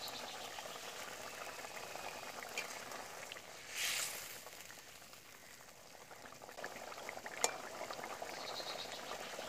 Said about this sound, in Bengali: জল দিয়ে ভালো করে কিন্তু ঝোলটাকে ফুটিয়ে নেব।